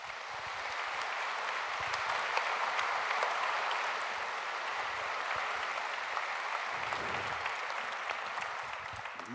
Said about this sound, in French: il mérite vos applaudissements